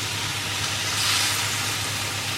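Fillet steak searing in a hot pan gives a steady, loud broadband sizzle with a constant low hum underneath, holding even throughout with no voices.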